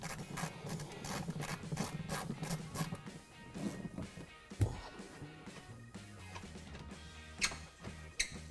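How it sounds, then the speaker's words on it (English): A ratchet loosening the seat bracket nut under a Mustang's stock seat, a quick run of close clicks followed by clunks and scraping as the part comes free. "so you want to get that nut off as well."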